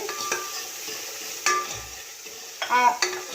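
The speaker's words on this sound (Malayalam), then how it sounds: "തക്കാളി ഇട്ട് കൊടുക്കാം" Tomato for rasam frying and being stirred in a hot pan, with a steady sizzle broken by a few sharp scraping strokes of the spoon, close and alone.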